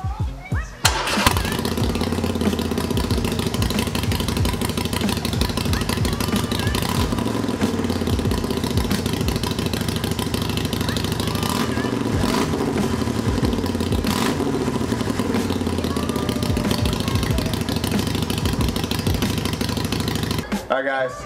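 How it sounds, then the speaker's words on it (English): A Harley-Davidson Sportster Iron 883 fitted with a new air cleaner starts up and settles into a loud, lumpy V-twin idle close by, running steadily for about twenty seconds before shutting off. "I think we should just turn the bike on and see how,"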